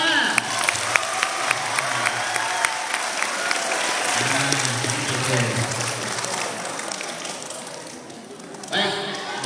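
Audience at a school Isra Mi'raj commemoration clapping in a loud, dense burst that goes on for several seconds, then tapers off as a voice starts speaking near the end.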